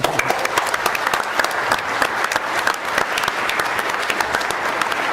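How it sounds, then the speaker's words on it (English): An audience at a public meeting on sustainable transportation in Richmond stands and applauds Dale Kennedy, a former banker, with steady, dense clapping that fills the room from start to finish. "let's give Dale a round of applause"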